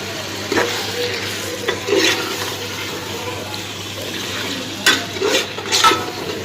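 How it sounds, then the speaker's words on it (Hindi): Chicken frying in masala in a pan with a steady background hiss, broken by a few louder stirring scrapes and sizzling bursts; no voices. "अभी हम इसमें ऐड करते हैं मुर्गी, फिर उसको हम भूनेंगे।"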